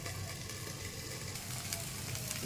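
Sliced okra frying in a pan with turmeric, a steady close sizzle running without pause and no voices over it.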